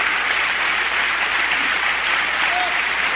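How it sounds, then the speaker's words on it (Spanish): A church congregation applauds in steady, dense clapping that fills the room, loud and continuous throughout, with no voices standing out above it. "Yo quiero que le dé un aplauso a él."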